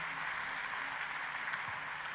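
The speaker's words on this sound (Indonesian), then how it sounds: "Untuk Tuhan yang seperti itu boleh beri tepuk tanganmu yang paling meriah" Church congregation applauding during a sermon, a steady wash of many hands clapping heard from a distance, faint and even from start to finish.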